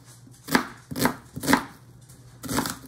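A knife chops an onion on a cutting board for beef barley soup, giving four distinct, close thuds at a steady unhurried pace with no talking.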